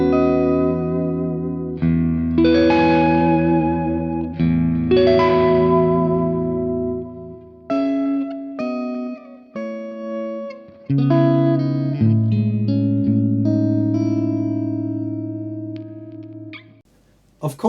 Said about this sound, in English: all the distortion is coming from the Angry Gorilla, my signature pedal